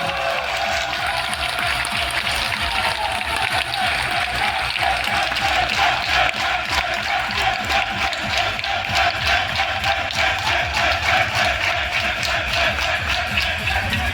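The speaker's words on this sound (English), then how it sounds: "Please give him a round of applause again." Applause for a 1v1 tournament champion at a gaming event, a continuous rumbling wash of clapping from a crowd, steady and fairly loud, picked up by a camera with a faint tone lingering beneath.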